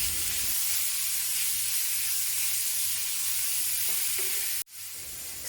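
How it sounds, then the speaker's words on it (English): Pork belly frying in its own fat in a hot, oil-free pan, a steady loud sizzle with a brief sharp break near the end. "Place the pork belly in a heated pan."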